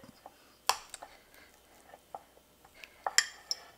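A utensil works softened butter in a bowl, giving sparse, irregular close clinks and light scrapes against the bowl's side, one sharper knock standing out among them.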